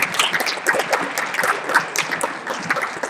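An audience at a hackathon closing ceremony claps for volunteers in green shirts, with dense, steady applause and scattered sharp individual claps throughout, fairly close and loud with no talking.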